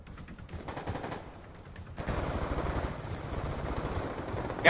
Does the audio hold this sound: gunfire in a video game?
yes